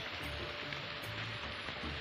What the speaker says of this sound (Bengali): এই দেখো হালকা হালকা বৃষ্টি পড়ছে